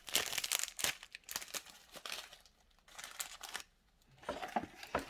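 Small plastic packets of seasoning and dehydrated vegetables for a Nissin hot and spicy chicken noodle bowl are torn open close by, bursts of crinkling and ripping with short quiet gaps, soft overall.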